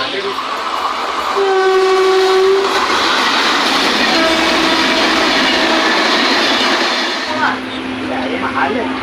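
Rumbling inside a moving train with a long horn blast near the start and clattering wheels, while people chat loudly throughout the carriage.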